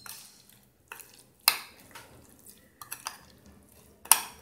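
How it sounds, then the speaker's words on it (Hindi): Mayonnaise, sauce and vegetables being mixed in a bowl for a sandwich filling, with a few sharp utensil clinks against the bowl and soft wet stirring between them, close and quiet. "अच्छे से मिक्स करना है मेयोनीज और जो सॉस हमने डाला है वेजिटेबल के साथ, इनको अच्छे से मिक्स करना है।"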